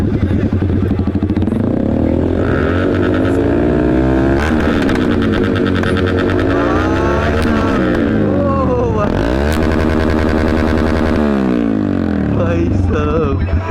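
A Yamaha R15 V3 motorcycle fitted with an aftermarket exhaust revs loud and close, its engine note rising and falling through repeated throttle blips. A second bike is running nearby, and voices are heard faintly under the roar.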